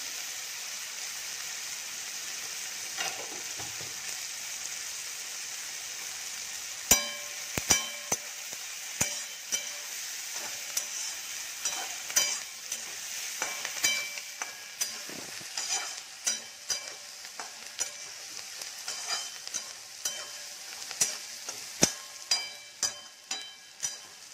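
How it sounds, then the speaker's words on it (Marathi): Cumin seeds sizzle in hot oil in a pan alongside frying onion and chili, making a steady hiss with frequent sharp crackles and spattering pops that grow busier over time. "आता आपण ह्याच्यामध्ये जिरे टाकूया।"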